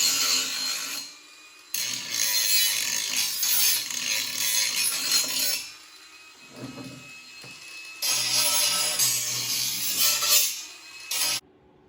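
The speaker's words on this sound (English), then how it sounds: "now we'll take us a grinder and clean that up a little" An angle grinder cleans up metal on a Kubota grill guard, sounding as loud, close, harsh whining bursts of several seconds each, broken by short quiet gaps.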